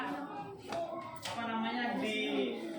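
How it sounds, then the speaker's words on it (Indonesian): A school class claps briefly for a pupil, a short burst of applause mixed with children's and a teacher's voices. "Tepuk tangan buat Ruby."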